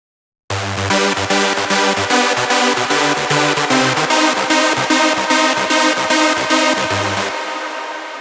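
A bright, thin high-passed, sidechained hardstyle synth lead pulses in a steady pumping rhythm, ducking on each beat, playing alone for several seconds before the drop.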